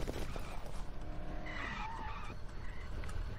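Tires skid and squeal loudly in the Dead Island video game, a sustained screech with engine noise that rises into a high whine midway, with no talking.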